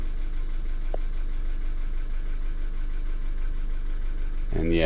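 A warmed-up 2012 Hyundai Accent with a dead O2 sensor idles steadily nearby, a low even engine hum with a brief noise near the end.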